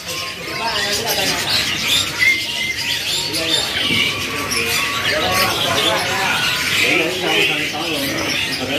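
Zebra doves, or perkutut, calling at the Pramuka bird market, with soft coos and chirps mixed into a busy, continuous market din and other birds nearby. People talk throughout.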